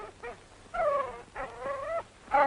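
A hound dog whines and whimpers in several drawn-out, rising cries separated by short pauses, fairly close and moderately quiet.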